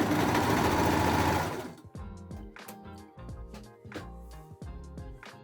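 A serger overlock machine runs briefly at the start as it serges a shirt, its loud rapid whir cutting off after about a second and a half, followed by light clicks and handling noises.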